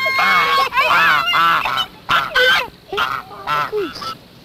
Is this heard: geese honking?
yes